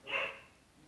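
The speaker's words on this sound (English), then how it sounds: "Sorry about my dog barking." One short dog bark sounds faint and distant in a quiet home setting, alone with no talk.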